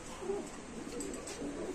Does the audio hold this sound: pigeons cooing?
yes